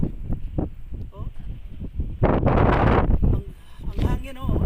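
Gusty wind buffets the microphone on a hilltop at Kilangit during a family climb, loud rushing bursts mixed with people talking and exclaiming nearby.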